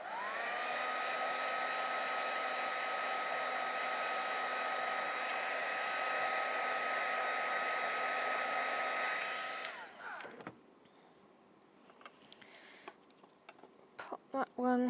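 A heat tool blows hot air to make glue tacky on a mixed media plaque, a loud steady whirring hiss for about nine seconds that then cuts off, followed by quiet handling and small taps.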